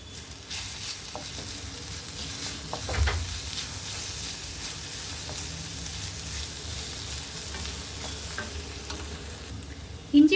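Ginger garlic paste sizzling with sautéed onions in a frying pan, a steady close crackle with stirring scrapes throughout and a brief louder clatter near the end.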